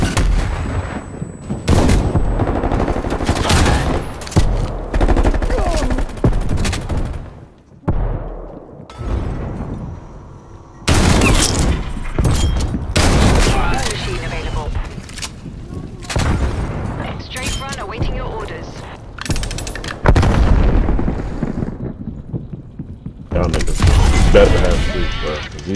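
Shotgun and sniper fire from Call of Duty Black Ops Cold War multiplayer bursts out in loud, repeated blasts with gaps between, mixed with game effects while a player talks over the action.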